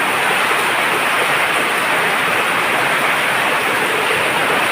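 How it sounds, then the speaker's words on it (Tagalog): Heavy rain pours down in a loud, dense, unbroken hiss that fills the whole clip, with no voices over it. "Yan, ang lakas ng ulan dito ngayon."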